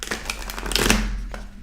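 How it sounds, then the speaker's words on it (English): A deck of tarot cards being shuffled by hand close up, a dense run of quick riffling flicks and snaps that swells in the middle and trails off, with no talking. "This is not an easy deck to shuffle."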